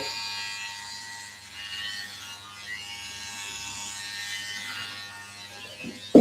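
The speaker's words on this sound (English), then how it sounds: "I literally draw a line in with the corner of the clipper" Electric hair clipper buzzing steadily close up, drawing a skin fade baseline just below the temple corner, with a faint continuous hum throughout and a sharp click at the very end.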